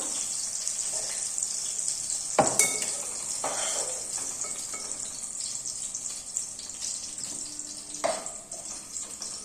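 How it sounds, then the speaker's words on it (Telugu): Green chillies frying in a pan for gongura pickle make a steady, soft sizzle, broken by a few sharp scrapes and knocks of a spoon against the pan. "మిర్చి ఫ్రై చేద్దామండి, లేకపోతే మాడిపోతాయి."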